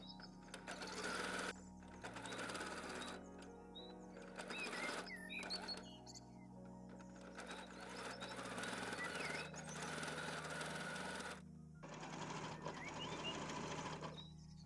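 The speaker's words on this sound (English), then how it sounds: "Place the foot pieces right side together, align the edges and sew around the contour with the 1 cm seam allowance." A sewing machine stitches plush goose foot pieces together around the contour in several loud runs of rapid mechanical chatter, separated by short pauses.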